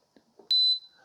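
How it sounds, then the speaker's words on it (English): A single bright electronic beep from an OXO Brew 8-Cup coffee maker when brewing finishes, fairly loud and lasting about a quarter second, follows a few soft faint sounds in a quiet room. "so it's beeping right at almost at the 6-minute mark"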